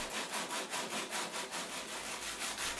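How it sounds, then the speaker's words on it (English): Coarse sanding sponge rubbed by hand along the curved inside of a boat hull, a steady rhythmic scraping of repeated strokes, close and fairly quiet, with no voices. "A sanding sponge with a coarse paper bends well with the inside bending of the hull"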